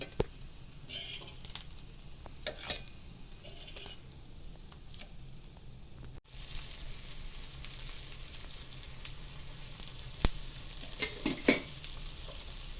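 Murmura and potato tikki frying in hot oil, a steady close sizzle with soft stirring taps and spatters running throughout.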